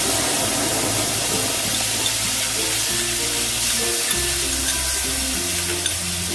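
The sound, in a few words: cumin seeds frying in hot oil for tempering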